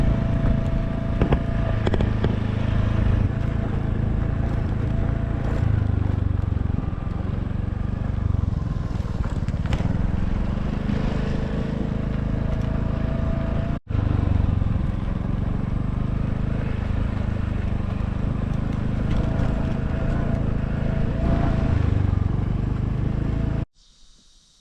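Steady engine drone of a vehicle driving on rough rural roads in Laos, loud and close with continuous rumble and wind noise, a brief cut midway, no talk.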